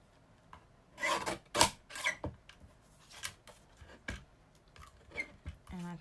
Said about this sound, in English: Bring in my little trimmer again. And just trim this down.